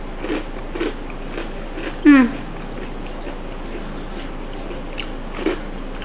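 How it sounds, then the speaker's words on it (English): Someone takes a bite of crispy fried chicken from a copycat Popeyes chicken sandwich, giving one loud close crunch amid faint mouth sounds and light chewing, with quiet background. "I'm gonna go ahead and try a little crispy part to show you how crunchy it is."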